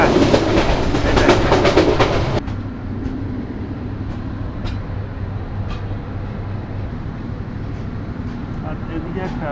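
A passenger train, apparently the Jayantika Express bound for Dhaka, rumbles past a crossing in Bangladesh with loud clattering that cuts off abruptly, leaving quieter ambience and voices talking.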